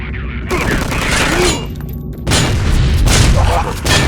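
Vivisector: Beast Within game combat, with heavy booming blasts and rapid bursts of gunfire, loud and close, roaring in waves and briefly dropping away midway.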